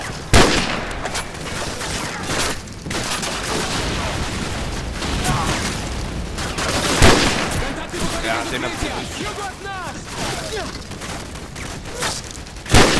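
Gunfire in Call of Duty 4: Modern Warfare during a house-clearing mission, with bursts and single shots cracking loudly and repeatedly across the scene, a sharp blast near the start and end, and people talking amid the shooting.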